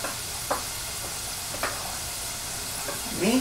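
Fries bubbling in hot oil, a steady crackling sizzle with occasional sharper pops and a faint scrape of stirring toward the end.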